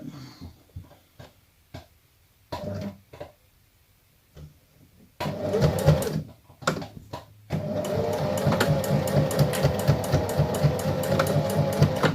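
A sewing machine sewing the last seam of a small fabric art card, starting with short stop-and-go bursts and then settling into a steady rapid stitching run, close and fairly loud.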